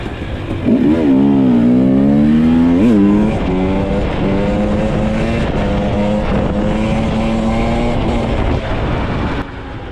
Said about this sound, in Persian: فقط این موتور رو مقایسه کنید با هوندا 125